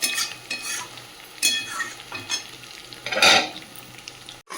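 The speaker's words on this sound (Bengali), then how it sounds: "পকোড়াটা ভাজা হলেই হয়ে যাবে।" Pakoras frying in oil, a continuous sizzle with bursts of spatula stirring and clinks of metal against the pan, close and fairly loud.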